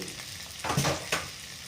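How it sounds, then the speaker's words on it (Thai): Glass noodles go into a hot pan with prawns, giving a brief burst of frying sizzle and a couple of soft rustling thumps over a steady background hiss; no voices. "นี่เอาละทีนี้ย่าก็จะเอาวุ้นเส้นใส่"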